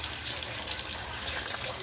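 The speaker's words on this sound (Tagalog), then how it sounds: "So yung tubig babagsak papunta rito." Water pours from a covered pipe into a crayfish tank, a steady close splashing gush that runs on evenly without pause.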